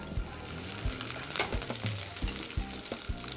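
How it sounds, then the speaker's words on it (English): Diced red onions fry and begin caramelizing in a pan, with a steady, close sizzle and repeated soft knocks and scrapes as they are stirred, and nobody talks. "we let these onions start caramelizing a bit"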